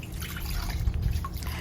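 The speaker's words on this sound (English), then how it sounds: "I'm going to be just adding the hot water." Hot water pouring into a kitchen sink, a steady close rush with bubbly splashing throughout, fairly loud, with no talking.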